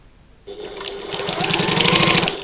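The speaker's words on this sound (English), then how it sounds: "Oh, I need one more little stitch there." A sewing machine stitches on a tiny stitch length while a button lock bag is being made. After a short quiet moment it starts up close and loud with a steady, rapid whirring rhythm.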